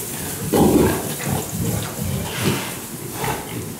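Pigs and newborn piglets on a farm, grunting and snuffling in a steady close-up jumble of noisy bursts, loud throughout with no talk.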